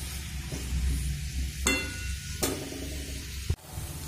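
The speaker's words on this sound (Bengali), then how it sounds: "ফুলকপির ডাঁটা দিয়েও কিন্তু আমি খুব সুন্দর করে কষিয়ে নিয়েছি, আর সব সবজি কিন্তু খুব ভালোভাবেই ভাজা হয়ে গেছে" Cauliflower stalks and mixed vegetables stir-fried in a pan for a fish chorchori, with a low steady sizzle broken by several sharp scraping stirs, close and alone.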